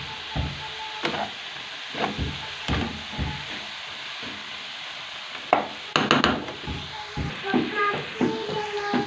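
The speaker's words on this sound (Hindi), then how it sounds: "इसको हम अच्छे से मिक्स कर लेते हैं और थोड़ा सा इसको भून लेते हैं।" Cauliflower and mixed vegetables stirred and sautéed in a pan, with a steady sizzle and repeated scraping, clattering strokes of a spoon against the pan, close and fairly loud.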